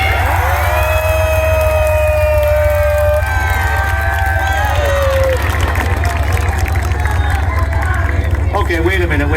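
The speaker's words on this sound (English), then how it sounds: "won Battle Royale with hoots and hollers and shouts and cheering" A large crowd at a tank crew's Battle Royale event at the Ontario Regiment museum roars with hoots, shouts and cheering, a dense, loud wall of voices with whistles and yells rising throughout.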